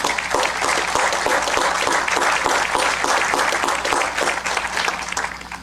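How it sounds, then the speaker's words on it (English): Graduation audience applauding training staff at a ceremony, a loud, sustained crowd of clapping hands with a few sharp individual claps standing out throughout. "How about a round of applause for all those individuals?"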